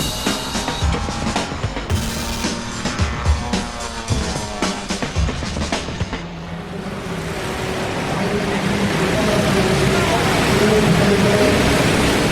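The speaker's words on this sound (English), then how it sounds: "That is the sound of 20 karts qualifying for" Twenty karts qualifying at the 2013 Autosport International Celebrity Karting Challenge, a dense, continuous engine roar from many karts at once that builds into a steady, loud wash of racing noise.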